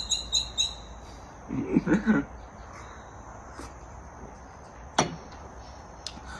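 Small birds chirp in quick high bursts at the start and a few times after, mid-distance over steady outdoor background noise, with a brief low voice.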